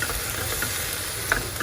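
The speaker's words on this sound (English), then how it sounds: "Let this fry for some time. Let it fry a little bit" Eggplant frying and being stirred in a pan, a steady close sizzle with a few soft utensil scrapes and clicks, no voices.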